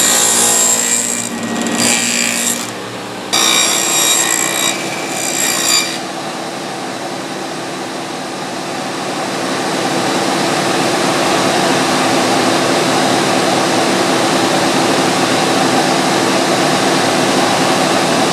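A table saw fitted with a dado stack (two saw blades with a 1/16 inch chipper) cuts a wooden test piece for kitchen cabinet drawers. Loud, choppy cutting bursts come first, then settle into a steady, sustained whirring roar.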